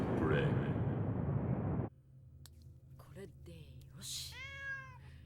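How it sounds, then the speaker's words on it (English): Cat meowing in the anime Banner of the Stars III, a short rising-and-falling meow heard near the end after a burst of loud noise cuts off, with faint voices between. "Did the other cat attack Daiho?"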